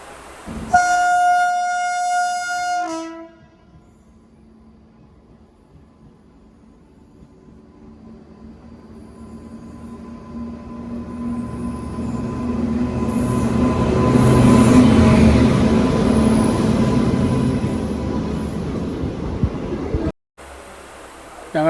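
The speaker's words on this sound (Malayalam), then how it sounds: "ട്രെയിൻ വാറങ്കൽ സ്റ്റേഷനിലെത്തിയിട്ടുണ്ട് തിരക്കുള്ള സ്റ്റേഷനാണ്" A train horn blares at the start, then a long rumble of rail cars rolls into Warangal station and builds, wheels grinding and squealing as it nears and slows.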